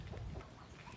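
Chicken clucking close by, a few short low clucks in quick succession over a steady outdoor background.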